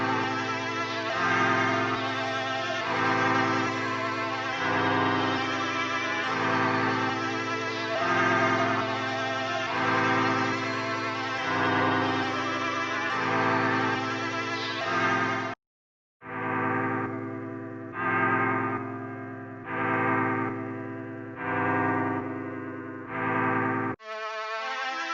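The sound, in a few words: Drill type beat loops from loop kit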